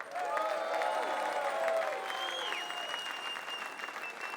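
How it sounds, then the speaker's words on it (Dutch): An audience in the Gouvernement in Maastricht applauds the winners of the 50th LVK with steady, even clapping that lasts throughout. Thin whistles and a few brief tonal calls rise above the crowd. "Geef ze een heel groot applaus."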